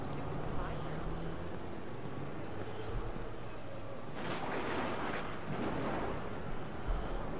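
Steady rain hisses across the whole scene in the video game Watch Dogs (E3 2012 build, modded), a dense broadband wash that swells slightly midway and runs continuously without breaks.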